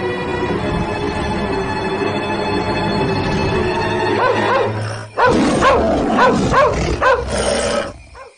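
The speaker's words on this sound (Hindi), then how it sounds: "इतना क्यों भौंक रहे हो? लगता है पूरे गांव को जगा दोगे।" A dog barks repeatedly in a village setting, a loud run of sharp barks and yips over steady background noise, with a brief pause before a final burst of barking.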